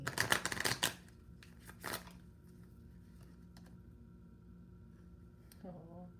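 A brand-new deck of playing cards shuffled up close in a quiet room, a dense burst of riffling clatter at the start and another brief flutter shortly after, then soft handling and low background hum.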